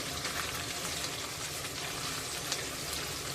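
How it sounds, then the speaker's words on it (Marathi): Chopped onion sautés in a pan with a dense, steady sizzle, close and continuous, with no talking over it. "कांदा पारदर्शक होईल इतकाच परतायचा आहे"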